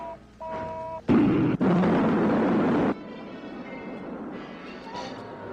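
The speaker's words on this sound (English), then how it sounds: "Rocket 1, second stage. Fire." A rocket's second stage fires in a film sound effect, a loud, harsh roaring burst that cuts in abruptly, briefly drops out, then continues before falling back to a lower rumble with tonal hum.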